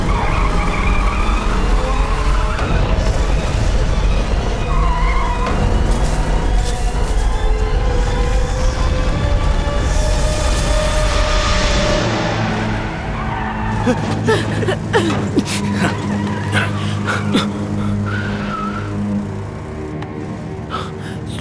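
A car in a movie chase scene drives fast with tires skidding and squealing loudly, a continuous roar that fades after about twelve seconds into clattering sounds and lighter engine noise.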